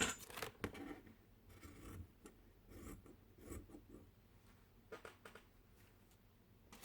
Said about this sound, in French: Alors on va en couper un morceau.